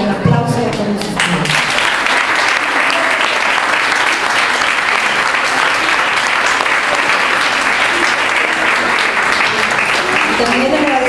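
Loud, sustained audience applause at a reading group event, dense clapping that runs nearly the whole time with a brief voice at the start.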